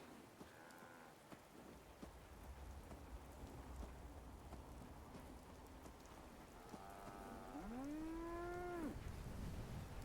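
Steady rain patters throughout in the video game Fallout 76, and near the end a cow lets out one loud, drawn-out moo, with a fainter lowing call near the start.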